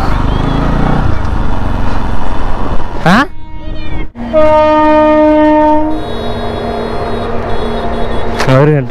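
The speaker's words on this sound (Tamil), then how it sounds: "ட்ரெயின் போகுது" A train rumbles past as its horn blows a long, loud, steady tone, with people talking nearby over the noise.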